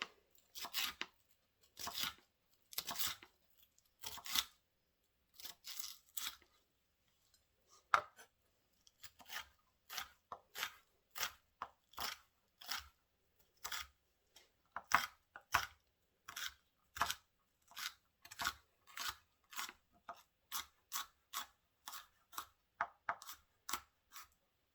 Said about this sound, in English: slice and dice.